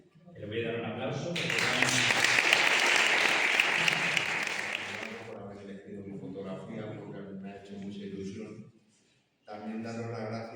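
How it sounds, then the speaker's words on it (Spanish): Audience applause breaks out as a poster for the Escobazos festival is unveiled at a presentation event, loud sustained clapping swelling from near silence, then fading under a speaking voice with brief pauses. "Ahora Marilu será la encargada de dar la vuelta a este cartel, que le voy a dar un aplauso."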